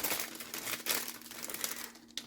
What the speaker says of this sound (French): on va prendre un bout de ruban. Donc moi j'ai choisi le ruban bien beige